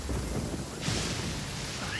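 Rain in the open-world game Genshin Impact, a steady broadband hiss of falling rain that swells partway through with a rumbling, thunder-like wash, even and fairly faint with no talk.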